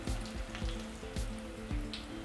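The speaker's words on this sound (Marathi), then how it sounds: "यामध्ये आपण फोडणीसाठीचा हिंग टाकू" Asafoetida dropped into hot oil for tempering while cooking red amaranth greens gives a steady, close frying sizzle, with a few soft stirring clicks and no voices.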